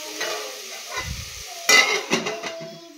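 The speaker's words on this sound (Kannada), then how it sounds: "ನಾನು ಲಿಡ್ನ ಕ್ಲೋಸ್ ಮಾಡಿ ಫ್ರೈ ಮಾಡ್ಕೊಳ್ತೇನೆ" Food fries in a pan on the stove as the lid is set on, a soft steady sizzle broken by a thud and a few sharp metallic clatters, near and clear with no talking.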